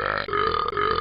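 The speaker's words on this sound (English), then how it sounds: "The burp song starting now." One long, loud, gurgling burp that rises and falls in pitch for about a second, close up and alone.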